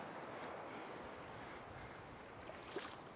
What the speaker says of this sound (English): you can tell the tide is coming in, the waves are picking up.